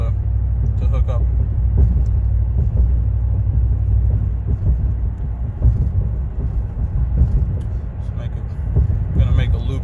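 A Ram 1500 pickup truck fitted with Doug Thorley catless headers accelerates and short-shifts from first to second, a deep steady exhaust rumble droning throughout from inside the cab, loud and continuous.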